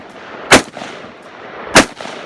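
Two loud, sharp gunshots about a second apart, each a sudden crack followed by a short echoing tail, with quieter background noise in between.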